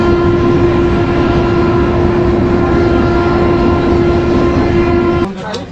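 Inside a moving train on the Kolkata to Ayodhya route, a loud continuous rumble with a steady droning hum runs throughout, then cuts off abruptly near the end.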